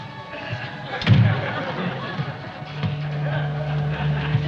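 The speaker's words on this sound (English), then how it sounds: "And close the door." A door swings shut in an apartment with one dull thud about a second in, followed by a low steady hum and faint room sound.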